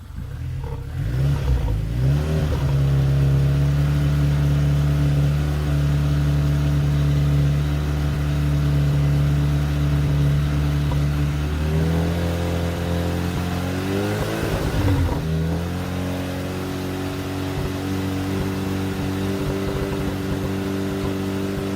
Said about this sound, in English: I'll go rev the engine, and then you'll be able to hear that it actually runs fairly smoothly if you give it gas